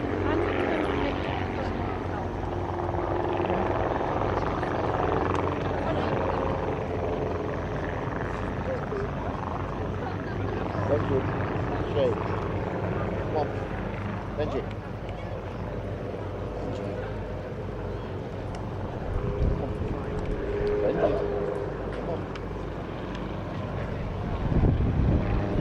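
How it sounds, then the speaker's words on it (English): Small propeller aeroplanes fly overhead at an airshow, a continuous droning engine and propeller hum rising and falling as they are buffeted in a breeze, steady at mid distance with people talking over it. "how these tiny little aeroplanes are being bucked about in the breeze"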